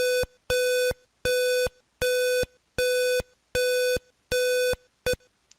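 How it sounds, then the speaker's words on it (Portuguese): An alarm in a Proteus circuit simulation beeps in a steady on-off pattern, with seven loud, evenly spaced electronic tones about half a second each and a short clipped final beep, with no talk. "Então nós temos aqui o nosso alarme."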